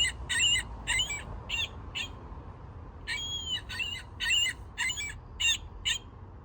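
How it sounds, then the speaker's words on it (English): Recorded seagull calls from a small stuffed toy gull ring out in two bursts of repeated squawking cries, each run of four to five calls separated by a short pause, close and clear over low background rumble. "There's a real seagull call embedded in this little stuffed animal version."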